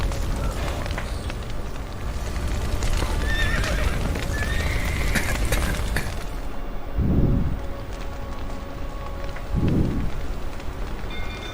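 Horses in The Witcher 3 video game whinny in two clear neighs over steady rain and a continuous wash of background noise, with hooves clopping faintly throughout.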